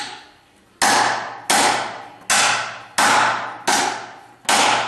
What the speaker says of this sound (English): take my socket, put it in place, try to put it on with a hammer